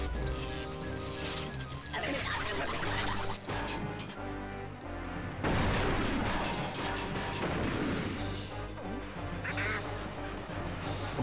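Explosive dynamite blasts strike a boss in the Donkey Kong 64 video game, loud booming hits over busy game music and effects, with a burst around the middle and another near the end.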